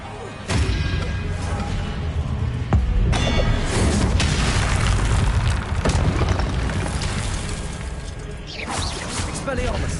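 Booming, crashing spell blasts in the Hogwarts Legacy video game, a dense loud rumble with sharp impacts around 0.5, 3 and 6 seconds, fading near the end.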